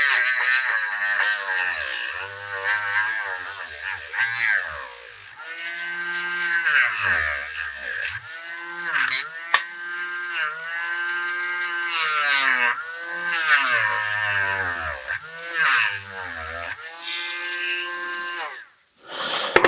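A Dremel rotary tool cuts the spines off a plastic dinosaur at low speed, making a close, whining buzz whose pitch rises and falls as the bit bites into the plastic and eases off.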